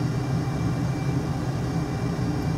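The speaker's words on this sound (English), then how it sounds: "We need to engage the afterburner" F18 Super Hornet afterburner roaring in a flight simulator game, a steady, loud low rumble of jet thrust held throughout without a break.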